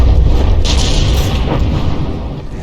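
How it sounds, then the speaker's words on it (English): A battleship in the naval combat game From the Depths fires mortars at itself, a loud continuous rumbling boom with a burst of crackle partway through, sustained and close across the whole stretch. "It's mortaring itself."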